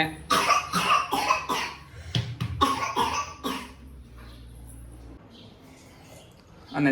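A burst of several rough coughs in quick succession, followed by quieter background noise with a low hum.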